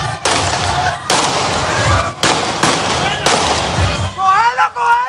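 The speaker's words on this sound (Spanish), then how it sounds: "policías y delincuentes se enfrentaron a disparos en plena calle 15" Gunfire rings out during a street shootout between police and criminals, several sharp cracks at irregular intervals over a busy street background, with a voice speaking near the end.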